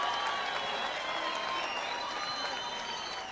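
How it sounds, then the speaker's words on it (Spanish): A crowd applauds a boxer's debut at an open-air night boxing event in Mar de Ajó, Argentina, a steady wash of distant clapping with no pauses. "el aplauso que recibe Rojas por su debut."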